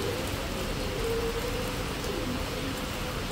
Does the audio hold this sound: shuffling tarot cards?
no